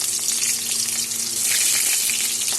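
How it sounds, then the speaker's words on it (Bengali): Potato, tomato, a bay leaf, black cumin, turmeric and salt frying in hot oil in a pan, giving a loud, dense, continuous hiss and sizzle close up, with no talk. "এখন এগুলো ভেজে নেব"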